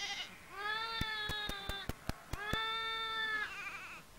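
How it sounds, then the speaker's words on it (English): A lamb bleats twice in a drawn-out, quavering baa, close and clear, the two calls separated by a series of sharp clicks, with faint background noise. "The lamb's baa is fairly clearly a contact call between mother and offspring."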